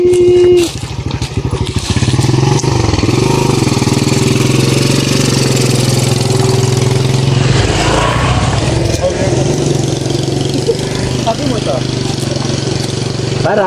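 A motorcycle engine runs loud and close on a muddy rural road in the Philippines, a steady throbbing drone that holds throughout, with people talking over it.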